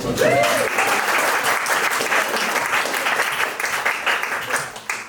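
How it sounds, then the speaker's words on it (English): A theatre audience at a youth-led legislative theatre performance claps in a dense, steady burst of applause that fades toward the end. "quick, give yourselves a round of applause"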